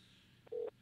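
Telephone dialing heard as a brief, faint electronic tone burst lasting a fraction of a second over low background hiss during a live radio call.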